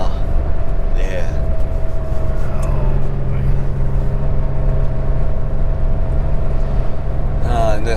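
Porsche 911 SC engine droning steadily from inside the car on a canyon road, a loud continuous hum with shifting tones as it drives, voices talking over it.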